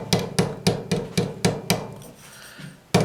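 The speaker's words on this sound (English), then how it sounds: "I'm using a ball peen. Tapping around the edges of it." A ball peen hammer taps around the edges of a flared metal jewelry bead to flatten it: six sharp, evenly spaced metallic strikes, a brief pause, then one more close, loud tap.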